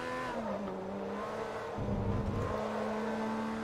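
Bugatti and Zonda race cars roar in Forza Motorsport 3, their engines holding steady, rising tones before a rough, louder burst of tire noise and braking, after which the engine drone resumes.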